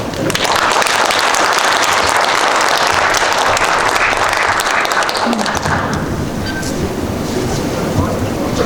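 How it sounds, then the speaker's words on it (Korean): Warm, sustained audience applause welcomes a visiting professor to a lecture hall at a Korean Presbyterian graduate school, a loud dense wash of clapping that eases off after about five seconds into lighter room noise. "우리 뜨겁고 감사한 박수를 드리겠습니다"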